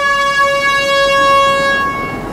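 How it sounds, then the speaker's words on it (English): A bullet train's steady harmonic horn tone sounds loud and sustained for about two seconds near a station in Osaka, then fades under a low rumbling background. "That's the train, the bullet train."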